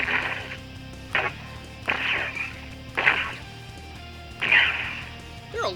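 Sound module for a Nerf blaster fires short electronic effect bursts, about five sharp zaps spaced roughly a second apart over faint background hum.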